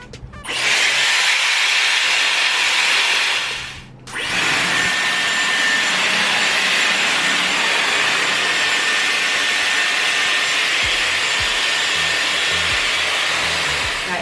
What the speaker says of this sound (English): going to use my blow dry brush again, and I'm just going to get some volume and tidy it up